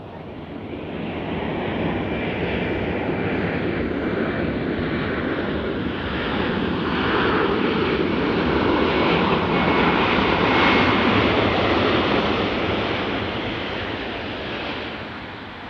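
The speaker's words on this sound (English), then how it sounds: "Another little Embraer going to the workout barn." Embraer jet taxiing at Nashville International Airport, a steady broad jet engine roar that swells slightly in the middle and eases off toward the end, continuous and fairly close with no talk.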